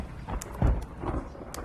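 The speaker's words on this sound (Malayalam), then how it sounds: "പുറത്ത് നല്ല ഇടിമിന്നലുവാ." Thunder during heavy rain: faint, low rumbling bursts roll in and fade over a dim background, with one deeper thud near the middle and no talk.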